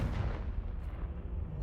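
A Confringo fire spell blasts in a damp dungeon in Hogwarts Legacy, a deep, heavy rumbling boom that stays loud and steady across the moment and then starts to fade.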